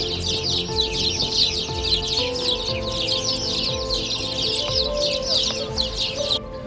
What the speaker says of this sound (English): The tree next to it was filled with Spanish sparrows.